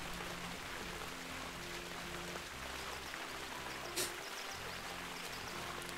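A waterfall in a zoo-building video game rushes with a steady, dense hiss of falling water, continuous and fairly quiet, with a low background hum and one brief click.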